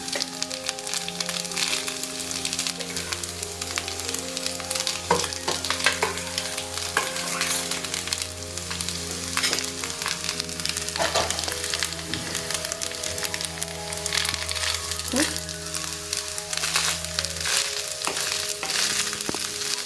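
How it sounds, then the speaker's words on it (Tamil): Carrot rice fried and stirred in a pan on a low flame: a dense continuous sizzle with scattered light scraping, accompanied throughout by a steady low background hum and no voices. "நல்லா இதை கிண்டி விடுங்க."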